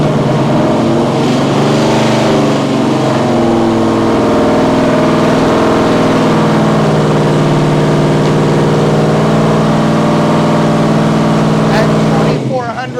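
Car engine with a newly installed distributor revving up from idle as the ignition timing advances, a loud, steady mid-range drone with a rising harmonic pitch sustained for about twelve seconds before a brief clatter at the end.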